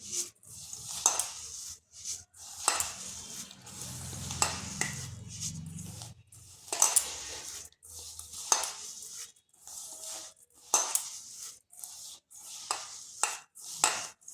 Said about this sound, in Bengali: এই সুজি গুড় আর নারকেল করে ভালোভাবে মিশিয়ে নিতে হবে